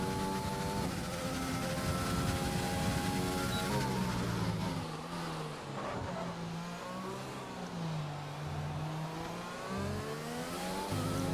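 Race car engines in an endurance racing game at a Mexico track, a loud steady whine that climbs and drops in pitch as the cars accelerate and brake, with a gear change partway through.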